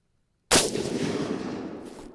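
A single loud, sharp shot from a Springfield M1A M14 scoped marksman rifle fired close by at a range, followed by a short, rumbling echo that fades away.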